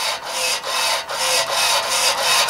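The RC steering mechanism on a compressed-air Tesla turbine car moves with a close, raspy whirring, in about six repeated bursts with short dips between them, heard alone.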